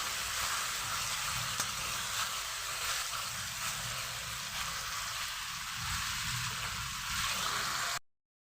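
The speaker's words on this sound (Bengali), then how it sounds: "আদা রসুনের সাথে আমি এবার মাংসটাকে ভাজব" Chicken pieces frying with ginger and garlic in a pan, a steady, dense sizzle that runs without a break and stays fairly close, with no talk over it.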